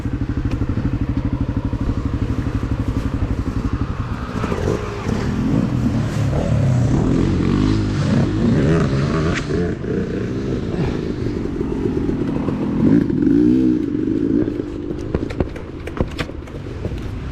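Honda CRF250F dirt bike with a failing, slipping clutch during a hare scramble race, its engine droning loudly and continuously close by, rising and falling with revs amid clattering thumps.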